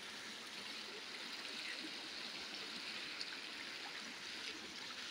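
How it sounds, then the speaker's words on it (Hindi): Canal water trickles and flows steadily past closed sluice gates, seeping through at the sides in Pakistan, a continuous even wash of moderate, fairly close water noise with no talking. "फिलहाल ये तीनों गेट बंद है, जो उसकी साइडों में से थोड़ा बहुत पानी आ रहा है बस वही पानी निकल कर आ रहा है।"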